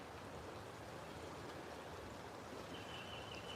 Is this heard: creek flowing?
yes